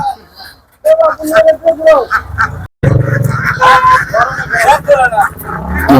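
Ducks being driven into a net on a farm in Bangladesh quack and honk loudly and close, mixed with people talking over the flock.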